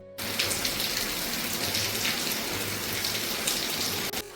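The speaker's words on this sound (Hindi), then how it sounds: "ठीक ठाक बारिश शुरू हो चुकी है" Steady broadband rainfall hiss, dense and continuous, with a constant watery patter and no voices.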